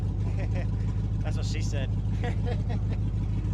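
The engine of an LS-swapped Chevrolet S10 runs with a steady, deep rumble beneath close voices talking briefly over it.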